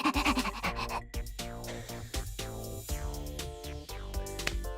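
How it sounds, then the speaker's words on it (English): A character's panting in the video game Hundred Line: Last Defense Academy, quick rhythmic breaths over loud, tonal game music. "She has a panting sound."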